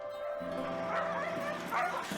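A dog gives a few short yips and whimpering barks, fairly faint and mixed with some background voices and noise.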